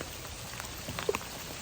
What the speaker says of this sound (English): And it is raining hard today.